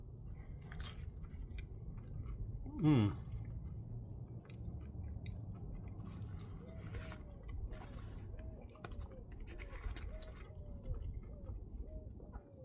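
Someone chewing a double smashburger crunchwrap made with two crunchy tostada shells, green chilies, pickles and burger spread, one loud crisp bite near the start followed by steady close-up chewing under a faint background hum.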